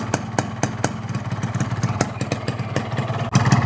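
A cold two-stroke motorcycle engine runs close by with a rapid, uneven popping putter and a rough, steady idle rhythm, alone without any talk.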